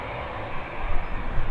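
ATR turboprop airliner at Birmingham Airport, a steady broadband engine roar that swells slightly, heard from a distance with no voices.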